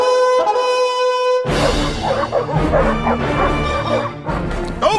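Hunting dogs chasing a fox bay and yelp loudly in an overlapping pack chorus that bursts in after a steady tone and continues to the end.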